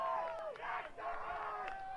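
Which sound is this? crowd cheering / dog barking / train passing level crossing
crowd cheering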